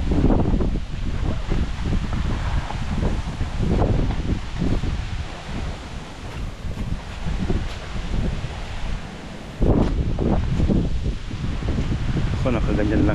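Strong wind buffets a seaside campsite where people sleep in an open car, gusting and roaring in uneven surges with rustling and microphone buffeting, a brief lull near the end before it rises again.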